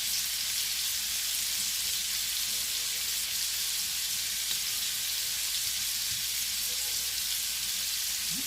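Garlic and parsley sizzle steadily in a hot pan, a close, even hiss of frying that holds at constant loudness throughout with faint stirring knocks underneath.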